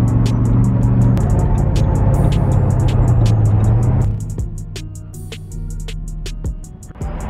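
A car cruising down the road, its engine a steady low drone with road roar, easing slightly quieter partway through, with faint ticking and clicks inside the cabin.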